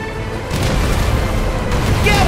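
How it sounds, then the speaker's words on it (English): Ship cannons firing in the video game Kingdom Hearts III, a loud, dense run of booming blasts with rumbling low end that carries through the whole short stretch, with game voices nearby. "On those ships. Ready the cannons."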